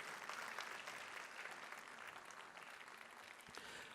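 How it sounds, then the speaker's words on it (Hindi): An audience at a Republic Day kavi sammelan and mushaira in Dubai applauds to welcome the poets, steady dense clapping that carries on evenly throughout, faint and distant in the room. "मैं आपसे गुजारिश करूंगा कि सैयद सलाहुद्दीन और उनके रफ़क़ा के लिए एक ज़बरदस्त तालियों के साथ उनका इस्तक़बाल किया जाए"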